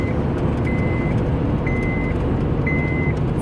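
Car cruising along a road, a steady close rumble of engine and tyre noise from inside the vehicle, with a repeating electronic chime sounding three times.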